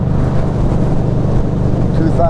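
A 2021 Harley-Davidson Street 500 motorcycle engine runs in fifth gear at about 3,000 RPM, a loud steady drone with wind rush heard from the rider's position.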